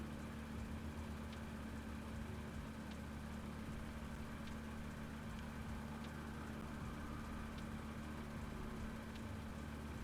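A nearby aircraft engine idles continuously, a low droning hum with a faint regular ticking, distant-sounding and unchanging throughout.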